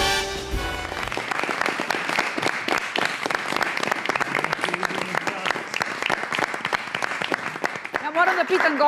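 A studio audience at a talk show claps in loud, sustained applause, with a voice speaking over it near the start and again near the end.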